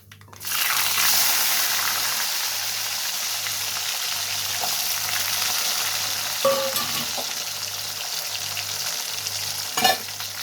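Shallots and garlic deep frying in hot oil for a village-style dried fish curry, a steady loud sizzle and crackle running throughout, with a few brief clinks partway through and no talking.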